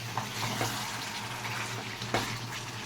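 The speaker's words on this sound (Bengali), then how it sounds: "এবার ভালো করে মশলাটাকে কষিয়ে নেব।" Chicken and potato curry masala sautéing in a pan gives off a faint, steady sizzle with a few soft scraping and stirring knocks. No one speaks.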